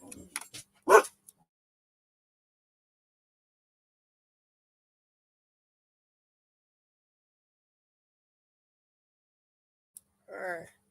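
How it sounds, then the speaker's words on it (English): A dog gives a few short, sharp barks and yips in quick succession, then falls silent for several seconds before a final whining yelp, moderately close. "barking at Roy"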